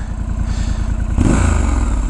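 A 2019 Triumph Scrambler 1200 XE with a 270-degree crank twin, its engine and quiet exhaust pulsing in an uneven idle rhythm, then revving up into a louder, fuller drone close by.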